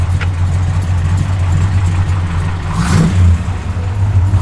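A 1966 Dodge Coronet 500 V8 idles loudly and close with a deep, steady rumble, then swells briefly in a quick rev before settling back to idle.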